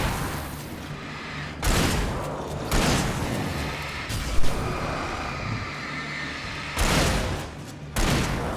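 A pump-action shotgun in the Alan Wake video game fires several loud, booming blasts at irregular intervals. Each shot is followed by a decaying rumble over continuous background game noise.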